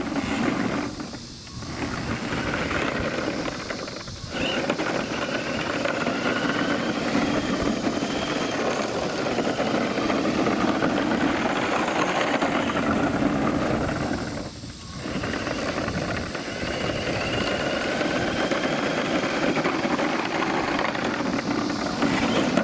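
A motorized base under a life-size papercraft ship hums and whirs steadily as throttle is applied, a continuous close electric-motor drone with a couple of short dips where the power eases off.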